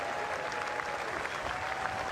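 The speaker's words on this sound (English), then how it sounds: "Everyone at the Basin Reserve applauding the remarkable Harry Brook" A stadium crowd at the Basin Reserve in Wellington applauds a Test cricket century, with steady sustained clapping throughout, moderately distant and even in level.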